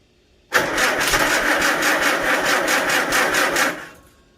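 A Farmall Super A tractor engine catches abruptly and runs at a fast, even putter for about three seconds, loud and close, then quickly dies away.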